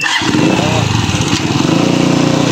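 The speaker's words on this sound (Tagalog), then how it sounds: "inuusok ni Kuya ang motor dito" A motorcycle engine runs loud and close while being revved and made to smoke, a steady rough mid-pitched drone that catches at the start and holds, with people talking faintly around it.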